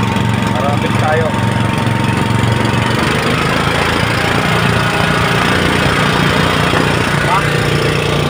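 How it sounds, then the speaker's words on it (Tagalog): A water pump motor runs at full throttle to boost pressure, a loud continuous droning hum with steady low vibration throughout, a few faint chirps and clatters over it. "Kaya tutudoyin na natin yung motor niya guys para malakas ang pressure."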